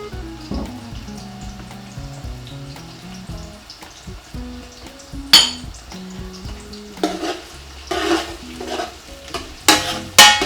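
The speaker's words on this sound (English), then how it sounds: "I'll pop all the onions in there now. And we'll make sure you keep mixing this with the onions in there." Onions sizzle in hot oil in a pan while being stirred, with repeated scraping and clinks of a utensil against the pan, close and clear with no talking.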